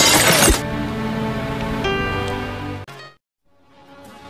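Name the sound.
school window glass being smashed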